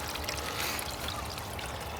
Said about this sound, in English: the pipe just literally returns right back, and you can see the excess water flow